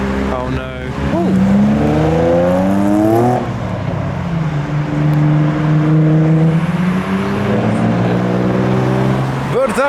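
Tuner cars rolling into a car meet in November, loud engines revving and rising in pitch as they pass close by, one after another, with bystanders talking over the noise.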